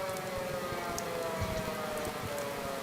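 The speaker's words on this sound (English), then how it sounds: "I'm gonna guess those are air raid sirens" Wartime air raid sirens, a sustained steady wail holding one pitch across the whole stretch, moderately loud over a dense rain-like background noise, with no talk.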